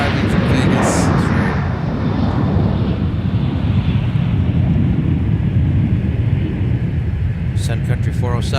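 A passenger airplane arriving from Las Vegas at MSP airport gives a loud, broad, steady roar and rumble that lasts the whole time, with a voice speaking over it.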